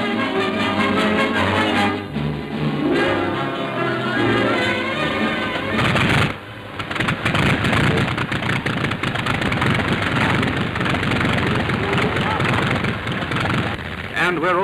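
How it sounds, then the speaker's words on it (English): Engines of a propeller airliner run loudly before takeoff, giving a steady, heavy droning roar with wind buffeting that dips briefly partway through, then builds back to a full, sustained rumble. "And the plane makes a perfect takeoff."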